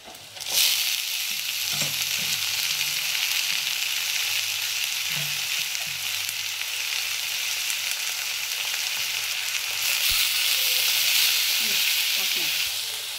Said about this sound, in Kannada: ಇಲ್ಲಿ ಒಗ್ಗರಣೆ ರೆಡಿ ಮಾಡ್ಕೊಳ್ತೀನಿ